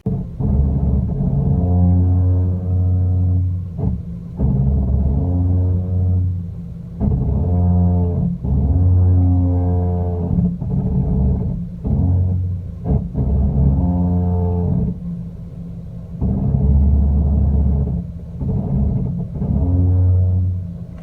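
A car's cheap aftermarket Nakamoto brakes groan and drone with a low, pulsing hum, rising and falling repeatedly over engine rumble as the vehicle moves off.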